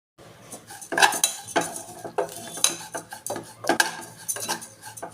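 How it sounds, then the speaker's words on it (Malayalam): Oats stirred in a metal pan make a series of close, uneven scraping and clinking strokes of a utensil against the pan, repeating irregularly with a faint sizzle and no speech. "കുറച്ച് ഓട്സ് നമുക്കൊന്ന് ഫ്രൈ ചെയ്യണം"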